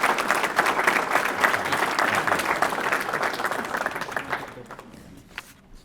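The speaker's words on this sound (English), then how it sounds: "let's go ahead and give him a round of applause" An audience at a Rotary career and technical education awards ceremony applauds a student, dense clapping sustained for about four seconds before thinning out and fading to scattered claps at the end.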